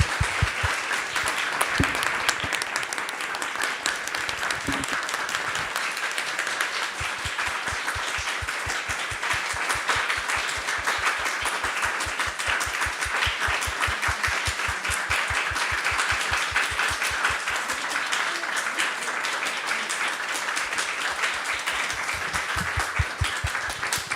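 Sustained audience applause at a Krishna Katha talk, a dense steady wash of many hands clapping that fills the whole stretch without letting up, with no speech over it.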